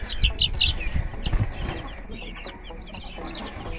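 Young chicks peeping on their first day in a brooder, high chirps in short clusters near the start and again later over a low rumbling background, moderately close.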